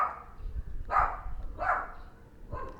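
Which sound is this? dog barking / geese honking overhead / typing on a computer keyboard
dog barking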